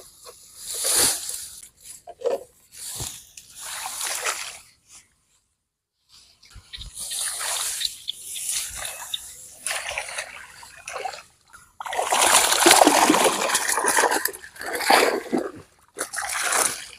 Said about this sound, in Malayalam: ഈ കൂട് നമുക്കൊന്ന് എടുക്കാം.